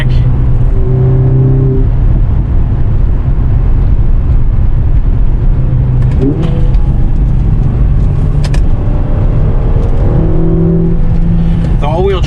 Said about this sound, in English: A little bit more pops and bangs out of the back.